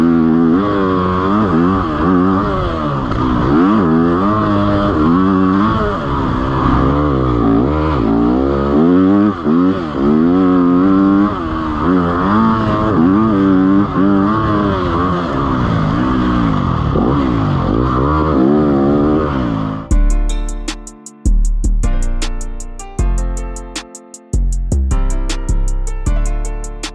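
A motorcycle engine revs up and down repeatedly, loud and close, for about twenty seconds before music takes over at the end.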